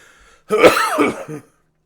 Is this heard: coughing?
yes